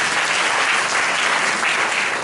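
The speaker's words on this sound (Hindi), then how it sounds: "एक बार ताली बजाएंगे यीशु मसीह के।" A church congregation at a youth service claps in a dense, steady burst of applause that fills the room without pause, with no talk over it.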